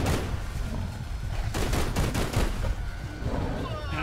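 Dense bursts of gunfire from a Bigfoot video game, loud and continuous across the whole stretch with rapid overlapping shots and heavier volleys in the middle, under a tense wash of background noise.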